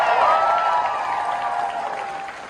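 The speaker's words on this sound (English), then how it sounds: "we should also give a big round of applause for all the brilliant council candidates" A crowd at a Queensland local government election night event applauds the council candidates and their campaign teams, with sustained clapping and some cheering that gradually tapers off.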